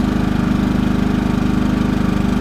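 A Champion 2000 inverter generator runs steadily close by, its small engine humming with an even, rapid pulsing throb and no voices over it.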